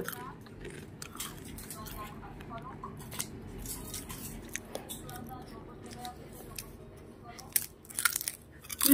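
Potato chips being eaten in a home kitchen, giving a steady run of crisp crunching and biting under ongoing talk and kitchen clatter, growing louder near the end.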